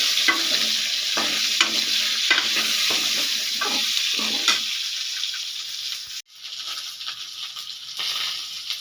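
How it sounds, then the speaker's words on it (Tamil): Eggplant and drumstick sauté with salt in a pan, giving a steady sizzle. A spoon scrapes and stirs in rhythmic strokes close by, then the stirring stops and the frying hiss carries on alone. "கொஞ்சமாக உப்பு போட்டு வதக்கிக்கலாங்க, காய் நல்லா வதங்கிறதுக்காக."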